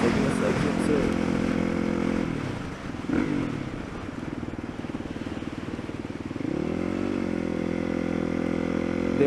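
A motorcycle rides along while taking an exit, its engine droning steadily, then dipping as the rider shifts, with a clunky gear change before the engine note climbs again; wind noise runs throughout.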